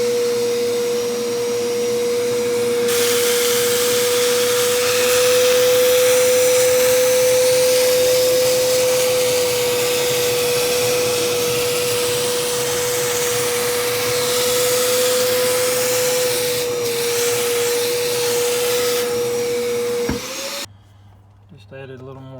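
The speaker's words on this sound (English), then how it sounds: "you can still pull the dirt right to the low spot and vacuum it out" A wet vacuum pulls dirt and water from the interior of a cheap used Jeep, a loud, steady, high-pitched whine with a constant motor tone that runs without a break and then cuts off abruptly near the end.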